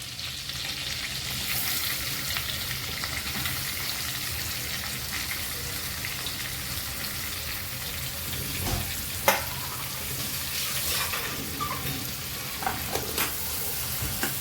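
Onions frying in butter and oil for pav bhaji, a steady close sizzle throughout with occasional clicks and scrapes of stirring, no talking.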